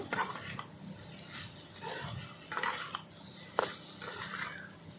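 Dried lotte fish and ripe pumpkin being stirred together in a pan, with repeated scraping and clinking of a spoon on metal over a faint low sizzle, close by and with no talking.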